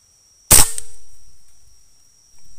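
A single sharp rifle shot fired at a short-range outdoor range while zeroing a scope, a loud crack followed by a long fading echo tail, with a faint thump at the end.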